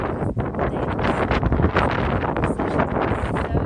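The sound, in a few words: wind blowing outdoors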